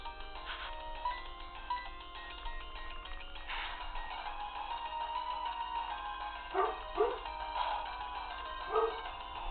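Rocky, a pet dog, lets out a few scattered barks and whimpery yips, moderately loud over continuous chiptune-style game music, with quieter gaps between the bursts.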